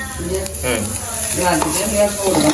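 Sliced onions and stingray pieces sauté in a hot pan with a steady close sizzle, broken by scraping stirs, while a voice talks over the cooking.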